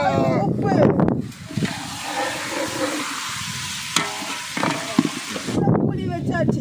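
Chicken gravy sizzles and fries in a pan in an outdoor village kitchen while a utensil stirs it with scraping clatters. A voice speaks briefly near the start and again at the end over the steady hiss.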